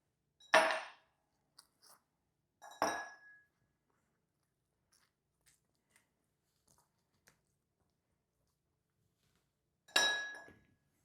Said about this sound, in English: But before we do that, I'll be placing 3 ice cubes in there.